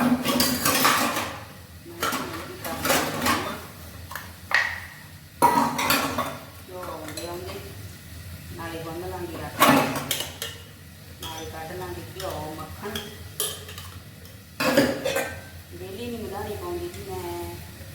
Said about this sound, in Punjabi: ਹੁਣ ਆਪਾਂ ਭਾਂਡੇ ਮਾਂਜ ਲਈਏ